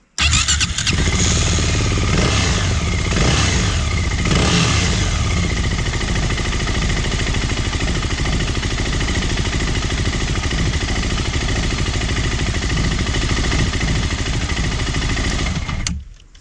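A motorcycle engine starts up and runs steadily close by, with a few revs early on before settling into an even idle.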